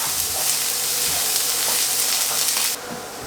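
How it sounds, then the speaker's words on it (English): Finely chopped onions frying in rapeseed oil in a frying pan over medium heat, a steady close hiss and sizzle with small crackles, no talk. "we just chuck a good glug of rapeseed oil, canola oil, into a frying pan on medium heat. I'll just add my finely chopped onions"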